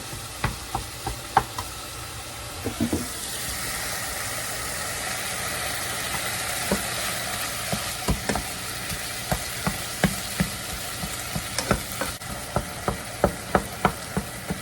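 Ground meat browns for spaghetti in a hot pan, a continuous sizzle and hiss broken by frequent sharp scraping clicks of a utensil stirring, all fairly close and with no talking.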